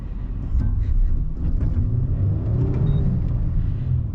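A 2023 Nissan Frontier PRO-4X strains uphill off-road, its engine rumbling steadily under load as the tires lose traction, with faint scraping and thumps over the drone.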